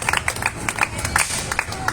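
Applause from an audience at an outdoor church service in a park in Pereira: scattered clapping, uneven and moderately close, short bursts of hand claps for about two seconds.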